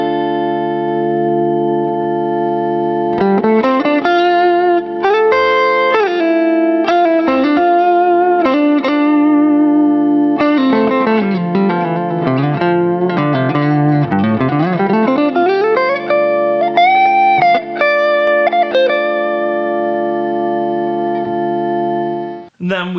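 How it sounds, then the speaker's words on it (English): Guitar tones from a freeze pedal ring out and are held as sustained, frozen pads, layered chords gliding and bending in pitch, with processed effects and no talking. "I've got a freeze, which I'll use for some intro pads"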